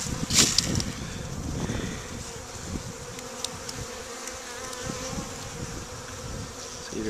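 Honey bees swarm and buzz steadily around an open wooden hive on a warm day, a dense close hum with faint wind noise and no talking.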